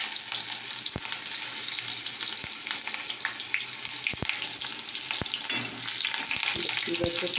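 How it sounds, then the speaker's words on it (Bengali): Chopped onion frying in a pan, a continuous moderate sizzle with occasional sharp clicks of a utensil against the pan. "দেখতেই পাচ্ছ পেঁয়াজ কুচি দিয়ে দিয়েছি"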